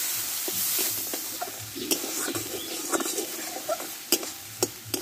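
A ladle stirs spice paste with tomato, turmeric and salt as it fries in a pan. A soft sizzle runs under a series of scraping strokes and sharp clicks against the pan, close by, with no talking.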